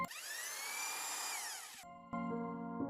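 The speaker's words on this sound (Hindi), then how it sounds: "ड्रिलिंग मशीन चालू और बंद होने की आवाज आने लगी।" A power drill whirs at a high steady pitch, then winds down and stops; after a short gap it switches on again with a sharp start, heard fairly faint and alone with no talk.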